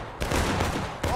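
Musket volley in the Civil War video game War of Rights, a loud rolling burst of many shots fired nearly together, followed by a second crack of fire, close and dense with no voices.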